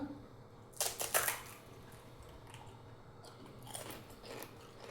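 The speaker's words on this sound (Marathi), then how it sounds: "मस्त कुरकुरीत पुरी आणि टेस्टी एकदम।" Crisp crunching bites up close: a loud cluster of crackly crunches, then quieter chewing crunches a few seconds later.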